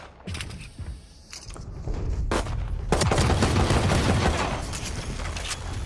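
Gunfire in a shooter video game, with scattered shots that build into a sustained, loud barrage of rapid fire and mechanical clatter, with no talking over it.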